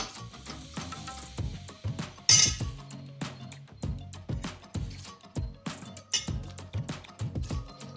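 A spoon clinks and scrapes against a pan while chicken is mixed with masala, giving a quick irregular run of close metallic taps and knocks with no voices.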